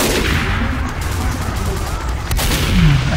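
Gunfire from the video game Team Fortress 2 on the Highpass map, a dense continuous crackle of shots and explosions filling the clip at steady loudness with no talk.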